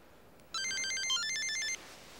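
A telephone rings with a melodic electronic ringtone, a quick run of bright stepping notes lasting just over a second in a quiet room.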